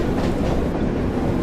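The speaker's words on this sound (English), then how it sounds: "So it's very easy to stop this train." A train rumbles steadily along the Tees Valley Line in the video game Train Sim World, a loud, continuous rolling drone with faint clickety-clack and no talking.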